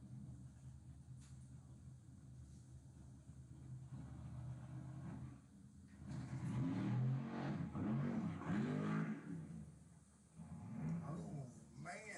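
An old Chevelle drag car accelerates down the strip, its engine note rising and swelling louder through the middle with a brief dip before revving again, all under steady background noise and crowd ambience.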